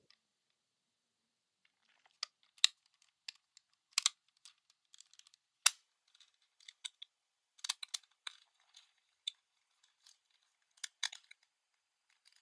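Someone types on a computer keyboard in irregular, quick clicking bursts, close and crisp, with quiet pauses between runs of keystrokes.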